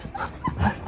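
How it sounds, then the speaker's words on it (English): Dogs playing indoors let out short yips and whimpers in the background, a few quick, fairly faint bursts over less than a second. "my dogs are playing in the background"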